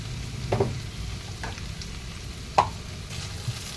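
Pieces of arbi (taro) frying in ghee, a soft continuous sizzle broken by a few sharp stirring clinks and scrapes, close and quiet with no talk.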